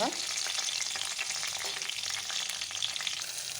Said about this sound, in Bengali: একটা একটা করে পটলগুলো ভেজে নেবো